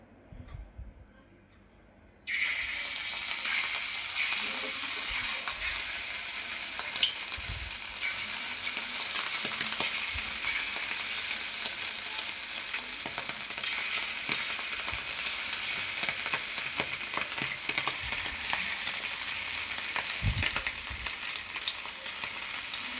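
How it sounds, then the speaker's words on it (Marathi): Marinated oysters hit hot oil in a pan and set off a loud, steady sizzle of frying that stays dense and even throughout, with no talking. "तेल गरम झालं. आता हे आपण कालवं सोडूया."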